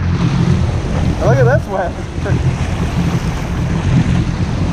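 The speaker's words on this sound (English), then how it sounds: "The GoPro doesn't do justice how big these waves are." Big Atlantic Ocean waves roar and wash steadily around a Sea-Doo jet ski, with constant wind buffeting the microphone and someone speaking briefly over the surf.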